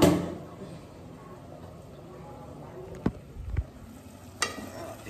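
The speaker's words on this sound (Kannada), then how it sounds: "ಈಗ ಮಸಾಲ ಬೇಯ್ತಾ ಇದೆ." Masala frying in a pan, a soft low sizzle under light stirring, with a few brief clunks of a spoon or utensil against the pan.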